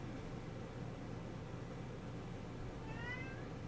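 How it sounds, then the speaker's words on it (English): A cat meows once near the end, a short rising-falling call over steady background hiss and a low hum. "Meow."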